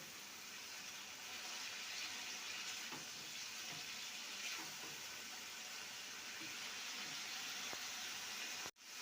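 Masala spices frying in oil for a broken potato curry, a steady soft sizzle that stays even and fairly faint throughout, ending in a brief click.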